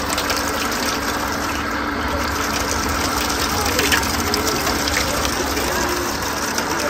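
Water rushing steadily from an opened pipe into a container, a continuous close gushing flow with a low mechanical hum underneath throughout.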